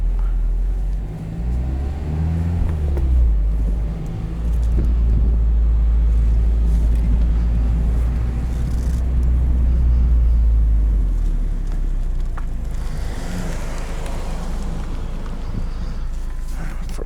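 A 2021 Mazda MX-5 Miata Club with a manual gearbox drives along, its engine a steady, deep rumble heard from inside the cabin, with wind noise rushing over it and no talk.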